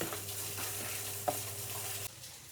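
Urad dal vada batter is stirred in a bowl, a soft, continuous wet mixing sound with a faint steady hum behind it and one brief knock partway through.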